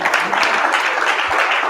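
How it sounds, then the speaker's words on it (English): A crowd at a talk applauds for PG County with dense, sustained clapping that fills the room evenly, loud and close, without pauses. "Give PG County a big round of applause."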